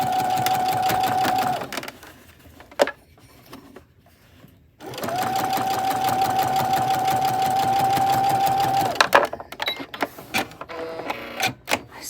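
A sewing machine stitches the seam of a fabric train case in two steady runs, a long whirring hum that stops briefly with a few clicks before resuming, ending in scattered handling taps.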